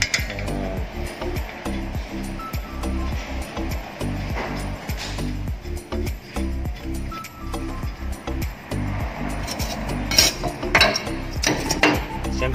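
A ratchet wrench clicks rapidly in repeated bursts while tightening a bolt during a front brake change on a Mitsubishi Super Grandia van, with metallic clinks scattered between the strokes.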